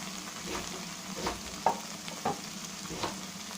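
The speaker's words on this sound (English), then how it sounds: "Just going to mix this very well" Mushroom butter masala with chili powder, turmeric, coriander and salt is mixed in a pan, a spoon scraping in slow repeated strokes about every half second over a faint, steady sizzle.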